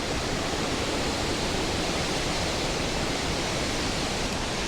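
A large waterfall in Zimbabwe roars as a dense, steady wash of falling water, loud and close, with no voices.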